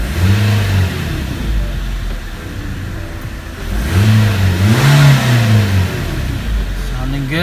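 A 2007 Kia Spectra engine revs up twice from idle, rising and falling in pitch, with a person speaking briefly over the running motor.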